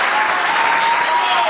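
Audience ovation at a bilingual conference discussion, a dense, steady roar of clapping filling the room loudly from start to finish with no break.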